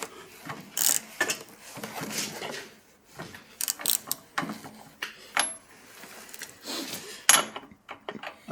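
A socket wrench ratchets on a bolt in bursts of quick metallic clicking, close and fairly loud, broken by short pauses and occasional clanks.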